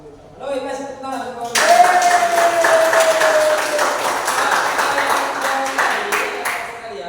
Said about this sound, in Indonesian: Oh, ini kasih tepuk tangan.